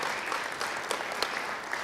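Audience members at a governor's press conference on an education announcement give a brief round of applause, a soft, steady patter of claps with a few sharper hand strikes standing out.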